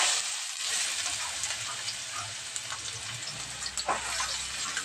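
Onion pieces frying in hot oil for pulao, a steady broad sizzle with soft stirring scrapes near the pan, continuous and fairly loud for a few seconds.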